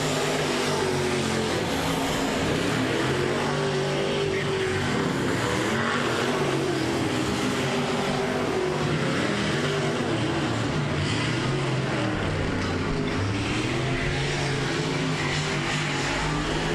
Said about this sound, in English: Modifieds having to feather the throttle through the turns just to make it safely through the turns